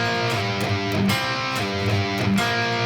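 Heavily distorted electric guitar works through a variation of a riff, rhythmic dyads shifting back and forth in short repeated bursts, loud and close.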